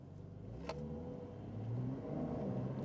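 A Porsche 911 pulling away gently in first gear, the engine hum building steadily from a low idle-like drone into a louder, rising rev, heard from inside the car with no talking.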